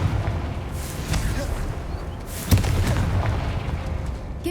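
The Confringo fire spell explodes in the Hogwarts Legacy video game, a single sharp blast standing briefly above steady game ambience and music.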